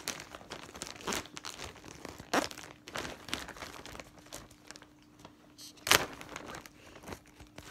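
Plastic merchandise packaging crinkles and tears in short bursts, with a few sharp ripping moments between quieter rustling, close to the microphone.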